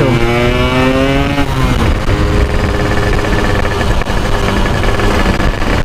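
Yamaha RX Special 115 cc two-stroke motorcycle engine revving loudly up and down in steady rising pulls, close and continuous, on a test ride with no talk.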